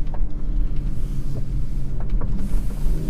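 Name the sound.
BMW X6 40i M Performance engine while driving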